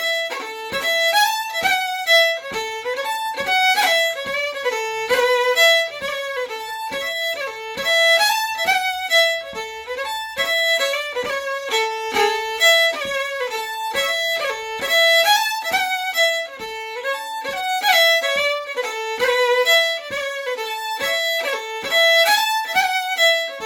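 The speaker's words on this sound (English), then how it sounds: "So that's a pipe march, and that was used in both the First World War and the Second World War for a lot of the troops to march" A lively Scottish pipe march, the kind played for marching troops in both World Wars, runs as a quick, bright melody of crisp ornamented notes in a steady marching rhythm, played alone with no talking.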